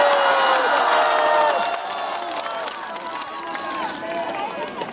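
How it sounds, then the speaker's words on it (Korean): A crowd at an outdoor election rally in Anseong, South Korea, cheers and claps, loudest at first and then settling into a steady roar, with voices calling out over the noise. "여러분 우리 한동원 위원장의 말씀을 큰 박수로 부탁드리겠습니다"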